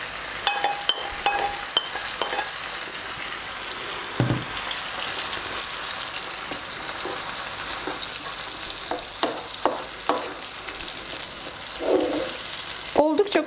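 Two diced tomatoes drop into a pan of frying fish that has just turned pinkish, setting off a loud, steady sizzle close by, with scraping stirs and clinks of a utensil against the pan throughout; no one talks.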